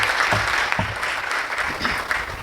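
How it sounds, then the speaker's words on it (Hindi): Applause from an audience at a poetry gathering welcoming a poet to recite a ghazal: a steady, dense clatter of many hands lasting a couple of seconds, with a few sharper claps near the front. "एक बार जोरदार तालियों से हम उनका स्वागत करेंगे"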